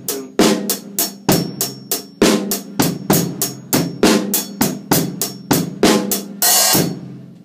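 A rolling 12/8 drum groove with hi-hat, steady triplet-feel strikes repeating evenly, ending in a washy open cymbal crash.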